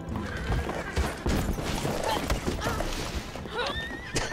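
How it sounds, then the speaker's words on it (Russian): Horses whinny and neigh in Red Dead Redemption 2 Online, with clip-clopping hooves and talking mixed in; a shrill, wavering whinny rises near the end. "Что это было? Это ржет"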